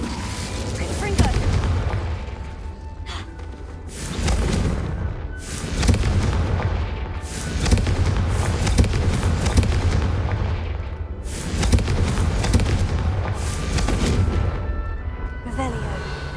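Repeated Confringo fire spell explosions in the Hogwarts Legacy video game, a series of loud booming blasts with deep rumbles, while a character's voice speaks over the combat.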